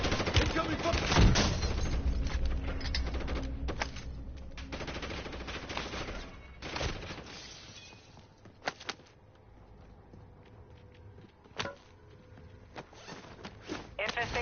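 Rapid automatic gunfire in a Call of Duty zombies-style infection match crackles in bursts and scattered single shots, fading to sparse pops, with a game announcer voice speaking over it.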